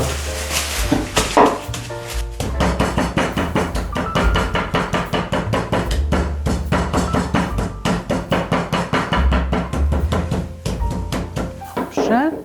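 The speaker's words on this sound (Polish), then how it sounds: "tym młotkiem potraktuję karkówkę" A meat mallet pounds covered pork neck on a board, delivering a long run of quick, evenly spaced strikes that are close and fairly loud, with a voice talking over parts of it.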